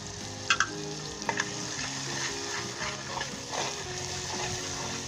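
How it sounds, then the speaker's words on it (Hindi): Spices such as salt, turmeric, cumin and garam masala sizzling steadily in a pan while being stirred, with a few scraping clinks of the spoon over the frying hiss, heard close. "और 1 से 2 मिनट के हम अच्छे तरीके से भून लेंगे।"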